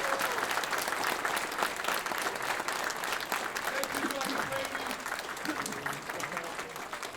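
Audience applause for veterans at a gathering in an Elks lodge in Lawrence, MA, a loud, sustained clatter of many hands that continues without pause and fades slightly near the end.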